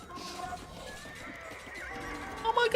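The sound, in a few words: horse neighing in a video game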